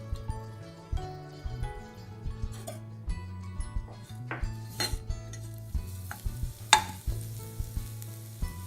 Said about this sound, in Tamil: இப்போது பூண்டுக்கு கொஞ்சம் ஈரம் அதிகமாக இருக்கிறதுனால முதல்ல அதை வறுக்க போகிறோம்.